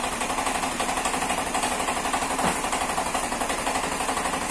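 A modified scooter's single-cylinder engine chugs in a fast, even rhythm, loud and steady throughout with no voices.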